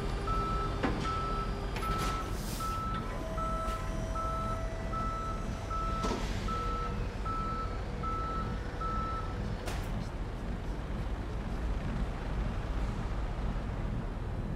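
A tow truck in the Police Simulator video game reverses with a steady, evenly spaced beeping alarm over a constant low engine rumble, with a few brief clanks along the way and no talking.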